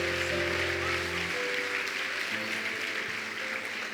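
Congregation applauding at an evening church service, a dense, steady wash of clapping with a low sustained tone and faint voices underneath, easing slightly after the first second.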